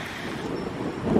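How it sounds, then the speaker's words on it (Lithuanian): Steady wind rushes and buffets against the microphone, a continuous low roar with no voices. "Šiandien biškių vėjukas yra."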